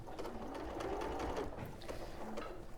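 Domestic sewing machine running a steady running stitch on a small fabric toy, a quick, even mechanical whirr close up with slight pauses, no voices.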